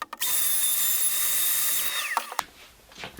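A router cutting away a recess for a hinge leaf in a wooden console desk, a high whining spin held steadily, then winding down with a falling pitch, followed by a few short knocks and scrapes.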